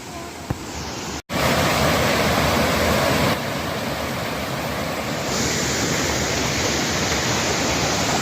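A steady rush of flowing water fills the air, broad and constant like a stream or small falls close by, at low water.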